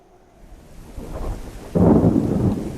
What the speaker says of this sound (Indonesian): Saat tengah malam, air hujan membasahi Palestina.